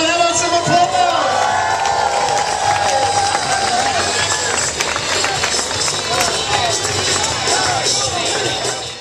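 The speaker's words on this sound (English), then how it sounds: "How about some applause?" An audience greets the arrival of cannoli at a Sicilian-themed show with loud cheering and applause, whoops and shouts riding over dense crowd noise that holds throughout.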